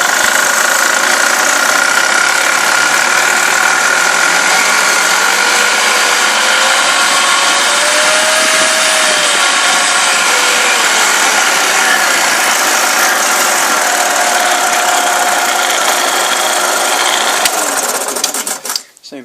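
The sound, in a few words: Shopsmith Mark V motor running while speed dial is turned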